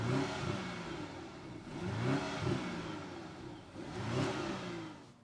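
The engine of a 2024 BMW X5 M60i LCI revs up as the SUV pulls away, a muffled, mid-pitched drone heard from inside the cabin. The engine note rises and falls in several swells while the car accelerates.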